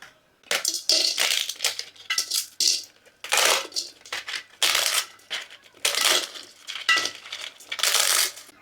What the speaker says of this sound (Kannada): ನಾನು ರೊಟ್ಟಿ ಚಪಾತಿನ ಈ ಥರ ಸಣ್ಣಗೆ ಮುರ್ಕೊಂಡೆ